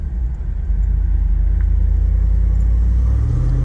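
A Jeep on a road drive gives a deep, steady engine rumble and exhaust drone from inside the cabin, loud and continuous with a slight swell in the first second.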